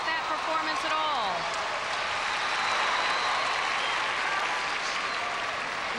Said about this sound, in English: she has this crowd on its feet